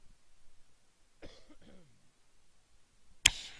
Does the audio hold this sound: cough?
yes